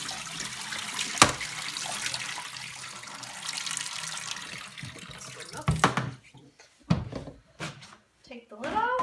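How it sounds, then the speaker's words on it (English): Water drains out of a Wonder Washer, a small hand-cranked washer used here to felt wool, a steady running rush that stops after about six seconds, followed by clunks and handling noises. "And you just drain the water out."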